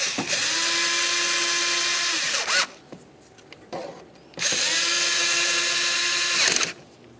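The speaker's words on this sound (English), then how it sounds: "Now we can start bottoming each of these out, starting with the two center bolts." A power tool or drill tightens the valve cover bolts on a 2009–2010 Pontiac Vibe 2.4L engine in two long, loud whirring runs, each ending in a quick ratcheting stop, with a quieter pause of small clicks in between.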